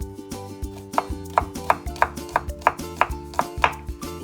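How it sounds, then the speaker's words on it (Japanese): Garlic chopped on a board with a knife in a steady, fairly quick rhythm of about a dozen crisp close strokes, with low background hum beneath. "Chop garlic."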